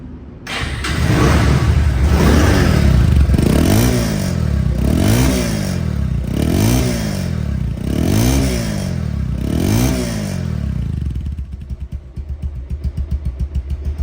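A 2023/24 Bajaj Pulsar double-disc ABS motorcycle engine runs loud and close, revved in five regular rising-and-falling surges before settling back to a steady idle.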